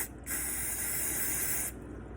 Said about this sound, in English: I'm gonna spray it one more time